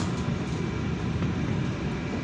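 The KA Pasundan passenger train rumbles steadily and loudly as it rolls into Rancaekek station, a constant low rail roar heard from on board.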